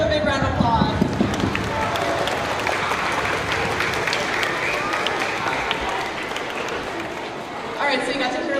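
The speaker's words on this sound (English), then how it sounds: "Let's give him a big round of applause" Sustained audience applause fills a spring school band concert, dense clapping steady and loud across the room with some voices mixed in throughout.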